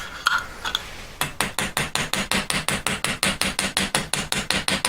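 Steady hammer blows rivet a silver box hinge, about fifteen crisp, bright metallic strikes in an even rhythm after a few lighter scraping taps, close and clear with no talking.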